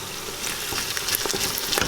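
Garlic fries with browned onions in oil for Levantine green beans, giving a loud, dense sizzle with crackles and scrapes that build over two seconds.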